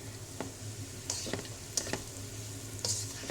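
Chicken egg fried rice sizzles steadily in a hot pan as chilli sauce and soya sauce are stirred through, with several distinct scraping strokes of a spoon over the continuous close frying hiss.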